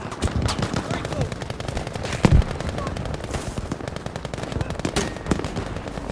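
Rapid machine gun bursts rattle through a Battlefield V multiplayer match, sounding close and continuous with one heavier blast mid-way, amid other battlefield noise and faint voices.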